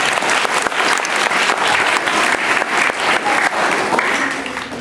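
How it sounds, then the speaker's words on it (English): Sustained applause from an audience at a student council inauguration, a dense, steady wash of clapping filling the whole stretch and tapering slightly at the end. "So have a nice round of applause for my deputy mayor."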